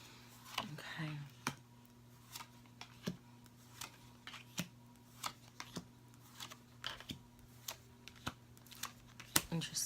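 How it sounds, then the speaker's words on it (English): Tarot cards are shuffled in a quiet room, making soft, irregular snaps and flicks every half second or so over a low steady hum. "Get a nice shuffle on these"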